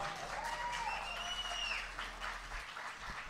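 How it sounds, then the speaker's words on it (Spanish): Audience clapping at a blues concert, a moderate, somewhat distant patter of hands with a few whistles from the crowd rising over it, fading slightly toward the end. "Así que un aplauso más del auditorio,"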